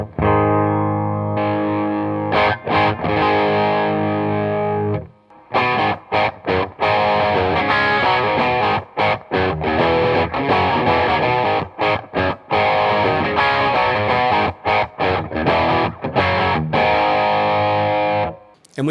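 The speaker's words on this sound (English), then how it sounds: "here's the OD2 with the turbo off" An electric guitar plays chords and riffs through a Boss OD-2 overdrive pedal with the turbo switched off, giving a loud, thick driven tone in phrases broken by short pauses.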